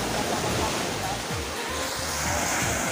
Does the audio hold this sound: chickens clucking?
no